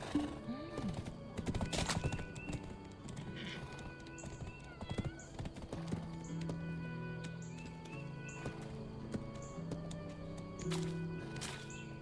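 A horse's hooves clip-clop in Black Desert, with intermittent hoof taps and occasional whinnies under game music and ambience, fairly quiet, while a person talks at times.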